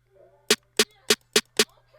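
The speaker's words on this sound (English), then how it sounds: "So here is the snare sound" A snare drum sample from a Superstar / Vibe beat kit, five sharp crisp hits in an even rhythm over a low steady hum, close and loud with no talking.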